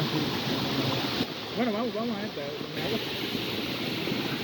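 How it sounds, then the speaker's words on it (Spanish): Water from the Salto de la Garrapata waterfall falls between rocks into a natural pool, making a steady, full rushing roar. A voice speaks briefly over it partway through. "Una caída de agua que se abre paso entre las rocas"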